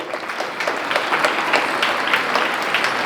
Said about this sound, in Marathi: यांच्यासाठी आपण एक वेळ जोरदार टाळ्या वाजवून त्यांचं त्या ठिकाणी अभिनंदन करूया